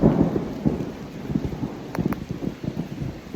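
Low thunder rumbles in the distance over a steady patter of rain near caves in Highlands, North Carolina, with no voices.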